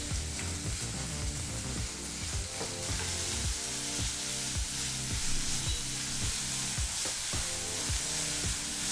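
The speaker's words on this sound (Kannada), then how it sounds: "ಈಗ ಈರುಳ್ಳಿನ 2 ರಿಂದ 3 ನಿಮಿಷ ಮೀಡಿಯಂ ಫ್ಲೇಮಲ್ಲೇ ಚೆನ್ನಾಗಿ ಫ್ರೈ ಮಾಡ್ಕೋಬೇಕು" Chopped onions frying over a medium flame for a South Indian mixed vegetable kurma, a steady close sizzle and crackle with rhythmic scraping of a spoon stirring through the pan, no voices.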